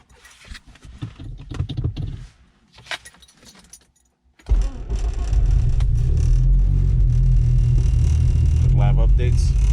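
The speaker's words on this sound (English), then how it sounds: "give me a second here, I'll start the car" Audi A4 B7 engine cranking and catching on a cold start, then settling into a loud, steady, rough idle that rumbles on after some quieter handling noises and jangling keys.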